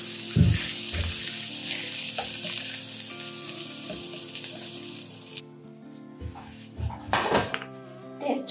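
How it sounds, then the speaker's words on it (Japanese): Garlic chives stir-frying in oil in a pan for a chive omelette, with a loud, continuous close sizzle and a few utensil knocks; the frying drops back partway through, leaving quieter clatter and splashes. "軽く炒める感じで、さっきのこの卵の中に"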